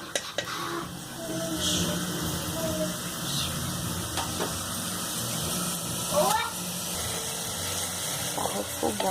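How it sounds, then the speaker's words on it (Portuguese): Grated garlic sautés in a pan for a sauce, with a steady soft sizzle and occasional stirring scrapes, while a person talks over it throughout. "Tá refogando, ó, tá vendo? Tá refogando."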